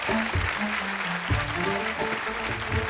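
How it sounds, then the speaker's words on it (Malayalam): Audience at a comedy show stage clapping steadily, a dense patter of hands with a voice murmuring faintly underneath. "5 പേര് നല്ല ക്ലാപ്പ് ചെയ്ത് കൊടുത്തേ"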